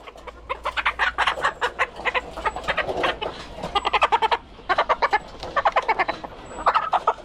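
Hens cluck in repeated rapid bursts, loud and close, several birds overlapping with short pauses between runs of clucks.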